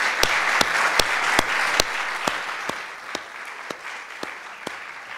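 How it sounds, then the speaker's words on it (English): An audience at a privacy debate applauds, with a bright wash of clapping and a few sharp individual claps standing out near the microphone, tapering slightly toward the end. "A round of applause."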